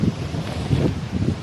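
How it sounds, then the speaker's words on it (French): Wind gusts outdoors, buffeting the microphone in a low, rumbling roar with uneven surges, with no other sound. "vu le vent qu'il y a"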